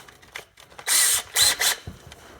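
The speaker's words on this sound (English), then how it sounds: "just drill your first primary hole" Power drill boring a pilot hole for self-tapping bolts during a rear endlink install on a 2000–2020 GM SUV. Two short whirring bursts follow light handling noise, close and fairly loud.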